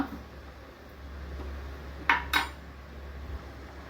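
A utensil scrapes and clinks twice against a pan while lady's finger curry with salt is stirred, two short close knocks over a low steady hum.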